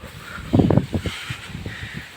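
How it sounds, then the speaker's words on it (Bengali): Wind gusting through village trees as a storm rolls in over rice fields, a rough low buffeting rush that swells briefly then settles into a steady breezy hiss. "আর শব্দটাই শোনেন কীরকম বাতাসের শব্দ"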